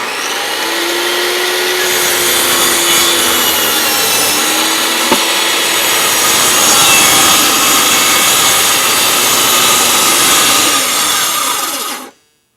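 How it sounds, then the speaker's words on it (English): A power saw slices through wood in one long steady cut lasting about twelve seconds, a loud close rasping whine with a faint tonal hum that stops sharply, with no talking. "Go in very slow, start the saw."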